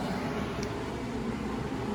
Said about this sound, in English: Again, I apologize for the noise in the back. I got the heater going